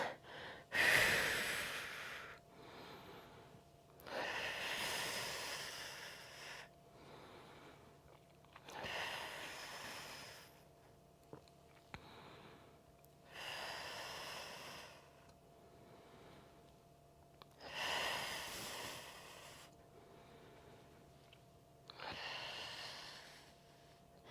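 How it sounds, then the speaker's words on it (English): Forceful exhaled breaths during a dead bug core exercise, about six long rhythmic exhales spaced a few seconds apart with quiet gaps between, close and fairly faint. "I'm starting with exhales"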